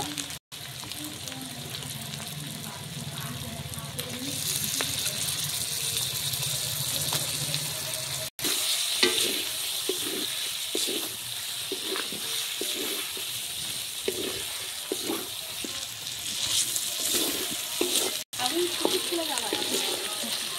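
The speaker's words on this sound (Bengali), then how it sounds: "এবারে এক এক করে এর মধ্যে মাছ দিয়ে দিব" Fish pieces go one by one into a mustard and poppy seed paste masala frying in a pan, giving a steady close hiss and sizzle with small bursts as each piece lands, while a person talks over it.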